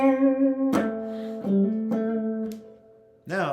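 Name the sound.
electric guitar lick played with emotion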